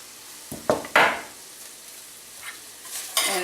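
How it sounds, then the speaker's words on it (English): Okra goes into a hot frying pan, giving a few sharp bursts of sizzle and clattering as it lands and is stirred, then a quieter frying hiss. "I'm going to add my okra to the frying pan here."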